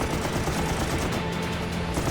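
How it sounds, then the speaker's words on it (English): Dense, continuous .50 caliber machine gun fire blasts out as a torrent of rounds is fired at a Japanese destroyer during a night air attack, loud and unbroken throughout. "Dungan unleashes a torrent of .50 caliber ammunition at the ship."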